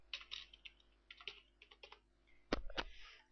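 Brisk keyboard typing, close and clear, with bursts of rapid keystrokes separated by short gaps and a couple of louder, heavier key hits near the end; no talking.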